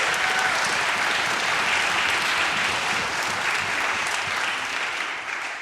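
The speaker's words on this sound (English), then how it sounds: "So, round of applause." A concert audience at a string camp applauds steadily, with dense, even clapping filling the whole stretch at moderate loudness and trailing off slightly at the end.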